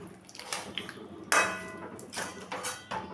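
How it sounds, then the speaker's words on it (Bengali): A spoon stirs sesame-paste chicken curry in a pan, with scraping, clattering knocks of metal against the pan at irregular intervals, one sharper clank standing out, close and moderately loud. "এবার একটু নেড়ে চেড়ে দেব।"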